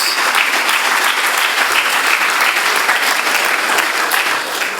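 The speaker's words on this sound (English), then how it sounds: "They deserve a round of applause" An audience at a Founder's Day prize-giving ceremony applauds. Dense, loud clapping fills the space evenly from start to finish with no voices over it.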